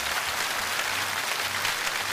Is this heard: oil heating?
no